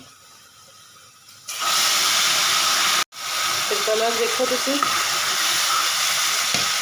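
Kadhi is poured into a hot tempering with deggi mirch and breaks into a loud, steady sizzle and hiss. A brief cut interrupts it before the frying roar carries on, and someone speaks over it.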